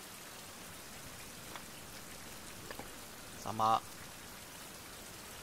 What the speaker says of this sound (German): Regnet jetzt schön auf.